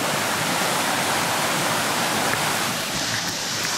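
A river of fresh water running down from Kilimanjaro rushes steadily nearby, a loud, continuous broadband roar of flowing water with no voices.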